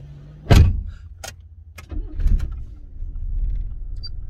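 A Rover 213 SD3 car starts on a single turn of the key: a sharp starter burst, then clicks and clunks as the engine catches and settles into a low, steady idle close by.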